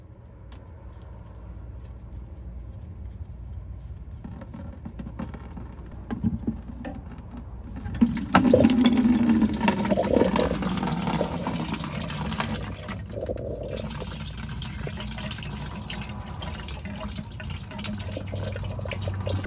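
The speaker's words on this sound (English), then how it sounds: "Guys, it's finished draining off" Fuel draining from the tank of a Mercedes W140 S500 into a container, a steady trickle and patter of liquid that swells into a louder, fuller gushing stream partway through, then settles into a continuous pour.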